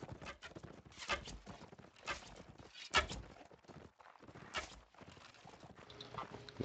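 Horses in a video game battle, clip-clopping hooves and movement in short bursts at moderate distance, rising and falling over low game ambience with no talk.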